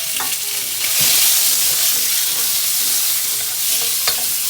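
Pork drops into a hot, smoking pan and browns with a loud, bright, continuous sizzle, with a few clicks of a utensil, close by and with no talking.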